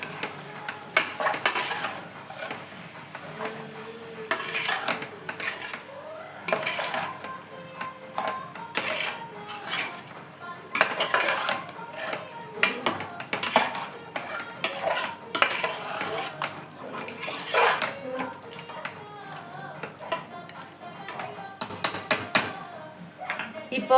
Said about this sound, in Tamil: கறியை சேர்த்து நல்லா கலந்து விட்டுக்கலாம்.